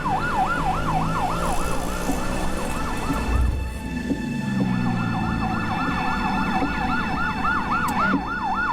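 Ambulance siren wailing in a steady rising-and-falling cycle, loud and close, briefly interrupted midway by a rumble of traffic noise before resuming with the same rapid wail.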